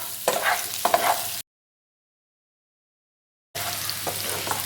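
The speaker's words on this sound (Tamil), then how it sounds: "இந்த எண்ணெயிலே நல்லா ஃப்ரை ஆகட்டும்." Boiled baby potatoes fry in hot oil while being stirred, giving a steady close sizzle with scraping stir strokes, cut off by a stretch of silence before the sizzle resumes.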